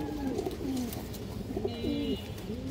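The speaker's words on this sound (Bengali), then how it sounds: "মাশাআল্লাহ খুবই হাই ব্লাড লাইনের কবুতর এগুলো।" High-bloodline Giribaz high-flying pigeons coo in a series of soft, rolling calls, close by, with a faint hum of background noise and no talking.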